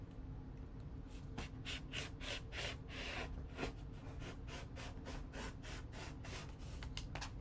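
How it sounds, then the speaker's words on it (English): A rotary cutter runs across denim fabric in a rapid series of faint, short rasping strokes, quiet and close, with no talking. "I'm going to use the good old rotary cutter and just go zipping across here"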